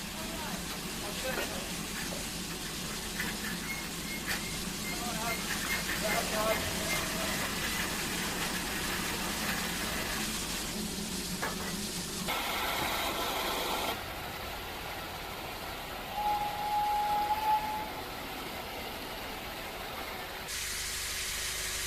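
A 1941 Andrew Barclay steam locomotive idles nearby on the North Norfolk Railway with a steady hiss and engine rumble, changing texture partway through as steam venting grows louder; someone talks over it.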